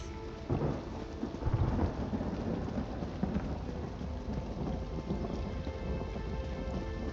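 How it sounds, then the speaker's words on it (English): A thunderstorm in the video game Elder Scrolls Online: steady heavy rain hisses throughout while a rolling rumble of thunder swells early on, dense and enveloping with no voices. "It's nice and foggy, beautiful storm in here."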